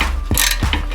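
A ratchet wrench works a stubborn brake bolt on a Subaru WRX during a Brembo brake install. A few quick, rhythmic metallic clicks of the pawl sound close up, with no voices.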